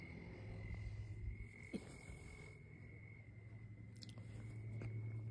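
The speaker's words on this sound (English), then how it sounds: "Some crickets, yeah, it's crickets." A steady, faint insect chirp drones on through quiet outdoor night ambience, continuous and unbroken, with a low hum underneath.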